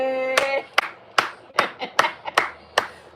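A few hand claps, then a run of sharp, irregular claps spaced about half a second apart, fairly close and loud.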